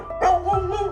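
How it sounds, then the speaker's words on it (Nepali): A single loud, close dog bark followed by a whiny yelp, short and sharp. "कुकुरहरू जोड जोडले भुकिरहेको थियो"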